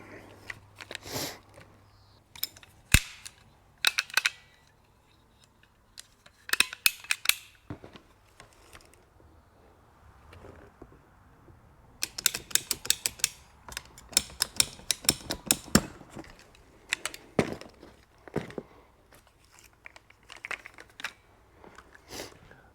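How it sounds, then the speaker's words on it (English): A length of pipe is cut during a farm repair of bull damage, heard as clusters of sharp clicking and ratcheting bursts separated by quieter pauses, fairly close and moderately loud. "we need to go and cut another piece of pipe about 3 inches longer than that"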